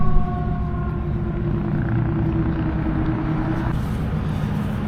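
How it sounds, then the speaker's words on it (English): An air raid siren drones in Cherbourg near the docks, a steady sustained wail heard faintly at a distance beneath a constant low rumble of traffic or engine noise. "it sounds like there's an air raid siren going off in the background"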